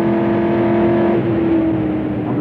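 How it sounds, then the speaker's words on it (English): A race car accelerating on the Le Mans circuit in 1968: a loud, close engine with a sustained rising tone and steady roar throughout, unaccompanied by voices. "We go on accelerating now, all the way up to a new chicane"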